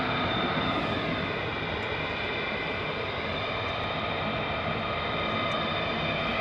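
F-35 fighter jets on the move at RAF Lakenheath give off a steady, broadband jet roar with a high whine, continuous and fairly distant, without any talking.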